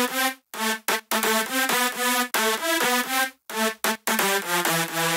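An EDM drop lead synth in FL Studio, thickened with Camel Crusher, Blood Overdrive and EQ, plays a choppy, rhythmic pattern of bright, harmonically rich chord stabs with brief gaps between phrases, loud and alone.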